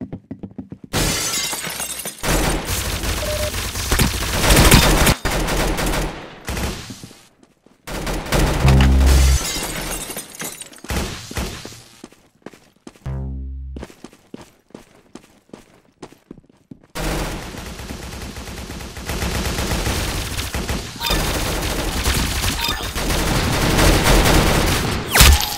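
Rapid bursts of gunfire in the Roblox shooter Arsenal, loud volleys and cracking shots with short silent gaps between firefights, dense and close throughout.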